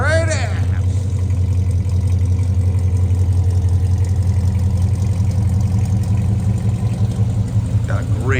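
A 1972 Chevrolet Chevelle engine idling with a mellow, steady low-pitched burble, loud and close, with a brief passing whoosh at the start and end.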